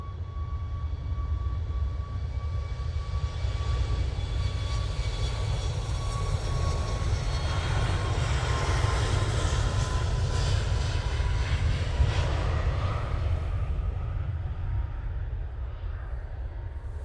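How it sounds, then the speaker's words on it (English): A Ryanair Boeing 737 MAX bound for Malta rolls down the runway at Manchester Airport, engines giving a loud, continuous roar and rumble that surges through the middle and eases slightly toward the end. "Ryanair 737 MAX now on the roll."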